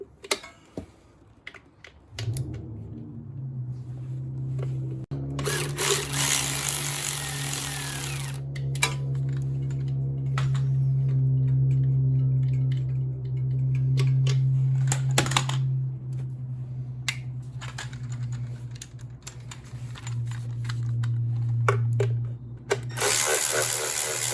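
Bolts are loosened on a Shadow 750 motorcycle clutch cover, giving close metallic clicks and ratcheting ticks over a steady low hum, with occasional louder bursts of tool noise and no speech.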